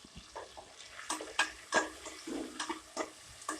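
Onions for vegetable biryani are fried and stirred in coconut oil, with soft sizzling and a series of close scraping, clattering strokes of a spoon in the pan.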